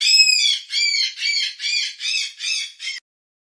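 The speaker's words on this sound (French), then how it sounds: "où vivait un grand perroquet rouge" A large red parrot squawks in a steady series of seven harsh, shrill calls. The calls are loud and close with no other sound, and the last one is short before the sound stops abruptly.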